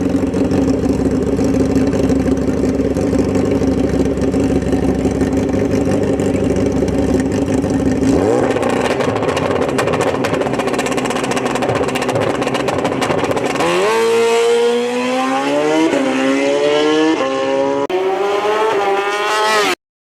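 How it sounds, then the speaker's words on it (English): A nitrous-equipped hot rod at Grand Bend Motorplex drag strip holds a loud, steady engine drone, then revs in rising and falling sweeps as it launches and accelerates down the track. "Let's see if he can figure this track out in his hot rod."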